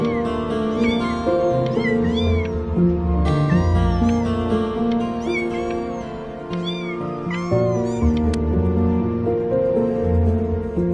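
Several house cats meow and caterwaul close by in repeated rising and falling cries that overlap each other across the whole stretch, loud and continuous with no speech.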